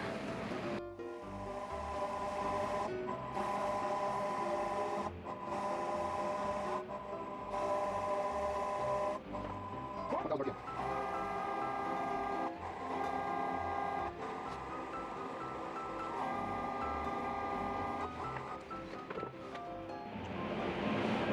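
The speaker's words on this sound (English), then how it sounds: "I'll just sand this entire thing now and put some finish of some kind on here." A power sander whirs steadily and loudly over a wooden bowl made from leftover scraps, running almost without pause for about twenty seconds, with one short dip near the middle.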